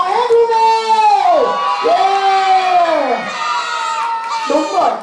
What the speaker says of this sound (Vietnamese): Hò hét đi nào.